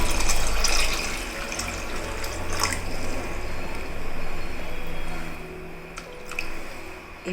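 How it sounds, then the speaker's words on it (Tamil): Water poured over washed jowar (sorghum) grains in a bowl for soaking, a steady close splashing and gurgling flow that is loudest at the start and then settles into softer trickling and dripping. "நல்லா தண்ணி ஊற்றிடலாம்."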